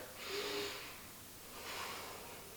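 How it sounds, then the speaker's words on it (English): Two slow, deep breaths drawn through the nose during a hamstring stretch, close and fairly soft, each a long airy inhale or exhale with a pause between. "I keep breathing. I keep taking deep breaths"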